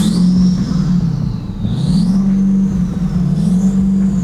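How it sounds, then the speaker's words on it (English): A turbocharged diesel truck engine runs close by, holding a steady low drone while a high turbo whistle rises and falls over it throughout. "That of course helps to light up the absolutely awesome sounds of that Dan's turbo even better"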